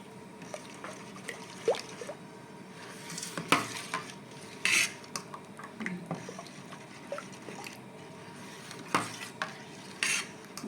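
Green food colour is stirred into a raw mango ice cream mixture, making quiet wet stirring sounds broken by scattered sharp clinks of a spoon against the bowl.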